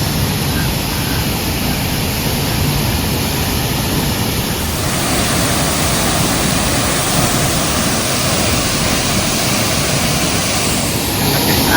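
A waterfall roars at Tasek Lama Recreational Park in Bandar Seri Begawan, a loud, unbroken rush of falling water that fills the whole scene.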